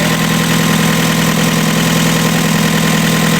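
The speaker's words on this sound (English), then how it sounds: "It sounds fine other than the exhaust leak." A loud, steady car engine idling up close with an exhaust leak, a continuous rough rumble and rapid puttering pulses throughout.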